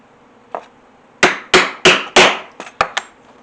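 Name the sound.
hammering a rivet setter on an anvil to set leather hardware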